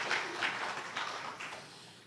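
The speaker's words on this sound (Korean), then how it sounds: "우리 성가대를 위해서 한번 박수 해주시면" A church congregation applauds its choir during a Sunday worship service, a soft, steady wash of distant clapping that holds evenly for about two seconds before easing off.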